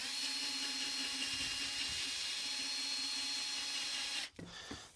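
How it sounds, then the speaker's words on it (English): A power tool runs with a 3 inch NYMN 3000 grit polishing pad, giving a steady whirring hum that cuts off abruptly near the end before a brief quieter restart. "Take that one off and we'll go up to the 3000. And at that point, it's pretty much just polishing everything."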